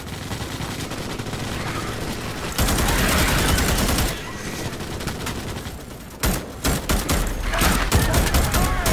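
Guns blaze in the Starship Troopers Extermination video game: dense, loud sustained bursts of rapid automatic fire, with brief pauses between volleys and a busy battle din underneath.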